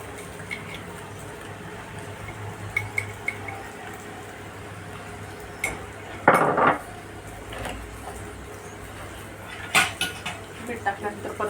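Cluster bean curry being stirred in a pan after salt goes in, with a spoon scraping and clinking against the metal in a few short bursts, one louder clatter midway, over a low steady background hum.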